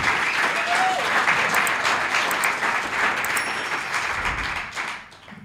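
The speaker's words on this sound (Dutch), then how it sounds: "Nog 1 keer een daverend applaus voor Richard de Lead." Loud, dense audience applause for a speaker at a live event, a steady roar of many hands clapping that holds strong, then tapers off abruptly near the end.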